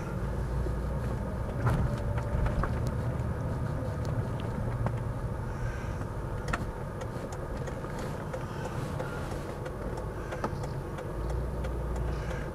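A BMW 635CSi with a manual gearbox pulls away gently, its engine running as a low, steady, fairly quiet hum with faint ticks and rattles and no talking.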